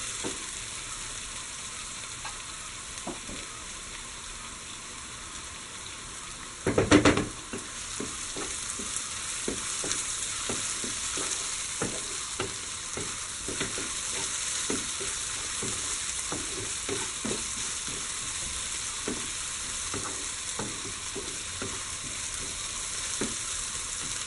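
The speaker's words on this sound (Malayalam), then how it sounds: "ഇനി ഇതൊന്ന് കൂടി കുറച്ചുകൂടി ഒന്ന് വഴറ്റി എടുക്കുക." A beef cutlet mixture is sautéed in a pan for Kerala-style cutlets, giving a soft, steady sizzle with irregular scraping stir clicks and a sharp louder clatter early on.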